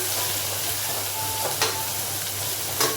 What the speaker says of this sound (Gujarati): તેલમાં ડુંગળી કકડવા મૂકી દીધી